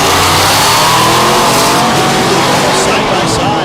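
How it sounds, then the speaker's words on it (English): Drag race cars at a Thunder Valley drag strip in Noble, Oklahoma launch side by side, a loud continuous roar of engines with tire noise filling the whole stretch. "let's see if they leave at the same time and make this thing a drag race"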